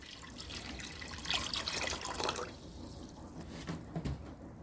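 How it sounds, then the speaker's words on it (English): Water is poured into a 3-gallon bucket with soft, faint splashing and trickling that swells briefly and then tapers off, heard up close and quiet. "I'm going to go ahead and fill it up with the rest of the water"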